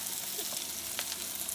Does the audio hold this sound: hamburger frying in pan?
yes